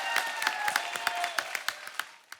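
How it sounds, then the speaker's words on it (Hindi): A comedy show studio audience bursts into applause, a sharp flurry of distinct hand claps that thins into scattered single claps before fading. "जोरदार तालियां"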